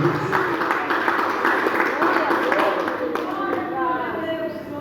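A church congregation claps together during a worship service, a sustained wash of clapping with voices rising underneath and fading slightly toward the end.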